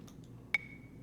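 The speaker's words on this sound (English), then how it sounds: "And that's the clave." A single sharp, bright wooden click rings briefly, then fades away over a quiet background.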